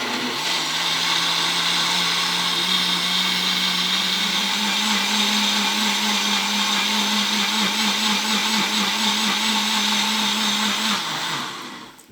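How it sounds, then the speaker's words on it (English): A blender purees beetroot and coconut soup in a loud, steady motor whine with a churning low hum, running continuously for about eleven seconds before winding down. "now I'm going to blend it till it's really nice and smooth"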